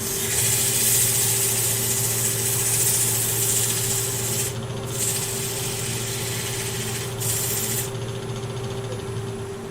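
A wooden vase spinning on a lathe while being sanded, with a continuous raspy rubbing over a steady motor hum that drops out briefly twice as the paper is lifted, and no talk.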